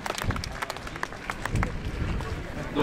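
An outdoor crowd gives a stunt rider a short burst of applause, dense scattered clapping at moderate distance, steady for a few seconds.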